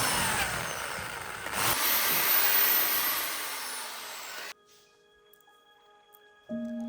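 A power drill bores two 10 mm holes, whining loudly and steadily for several seconds before stopping abruptly, followed by a quieter tonal hum.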